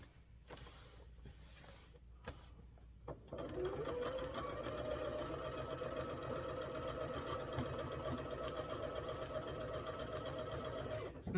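A sewing machine quilting a patchwork quilt starts after a few soft handling sounds and then runs steadily, a close, continuous mechanical whir with rapid stitching clatter that holds to the end.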